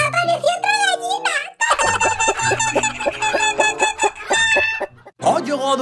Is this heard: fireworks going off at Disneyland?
no